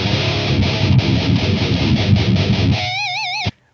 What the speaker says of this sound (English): Let's turn on the DoD Tech 4 X pedal.